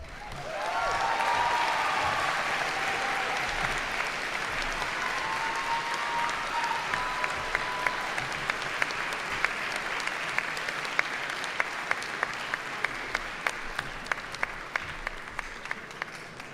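A large audience at a university commencement ceremony breaks into sustained applause, a dense wash of clapping that holds steady before thinning into scattered individual claps toward the end.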